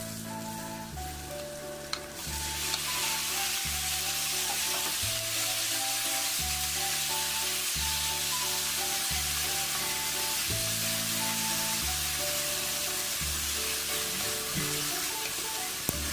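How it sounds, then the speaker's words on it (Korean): Chopped kimchi stir-fries in perilla oil with garlic in a hot pan, a steady loud sizzle with repeated scraping and stirring strokes throughout, no voices. "이어 불을 중불로 올린 후 썰어놓은 김치를 넣고 30초간 볶아줍니다"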